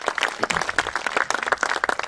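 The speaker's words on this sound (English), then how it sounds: "I think deserves a round of applause" An audience at a 2021 community Firewise wildfire-preparedness event breaks into applause, a dense patter of many hands clapping steadily at moderate loudness for the full stretch.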